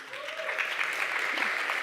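A tech talk audience breaks into applause, a steady spread-out patter of many hands, with a voice briefly heard under the clapping.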